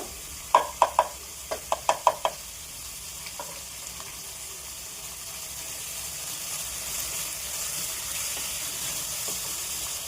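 Onion and chilli paste fry in a pan, a steady soft sizzle running throughout, with a few sharp stirring clicks and scrapes near the start, close and moderately quiet with no talk.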